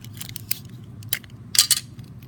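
Tape is pulled and handled during a protein-folding model demonstration: a series of short, sharp tearing and ripping bursts, several quick strips, fairly close, with quiet gaps between.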